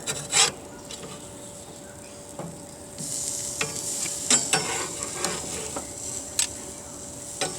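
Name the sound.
onions being flipped and sizzling on a grill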